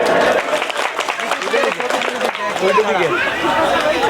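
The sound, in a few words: audience applause at award ceremony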